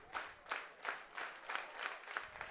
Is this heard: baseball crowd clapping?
yes